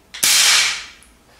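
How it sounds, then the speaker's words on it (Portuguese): A single sharp shot from a .22 PCP air rifle, a loud close crack followed by a bright hissing whoosh of released air that fades over about a second. "vou fazer um disparo aqui, fazer barulho, hein?"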